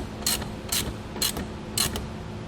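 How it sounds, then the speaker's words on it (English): A ratchet wrench tightens a nut onto a threaded stud while a Curt T-Connector wiring harness is fitted to a 2018 Mitsubishi, making four short bursts of rapid clicking evenly spaced about half a second apart, close up and clear. "And just tighten our nut back down."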